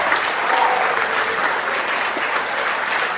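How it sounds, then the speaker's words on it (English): Loud, sustained applause from a school audience for the staff at an 8th grade moving-up day ceremony, a steady dense clatter of many hands that holds throughout without pause. "let's start the day off by giving a huge round of applause to all the people and staff"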